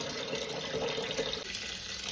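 Wheat grain being rinsed under running water, a steady continuous splashing and gushing of a tap into a basin, close and fairly loud throughout with no voices.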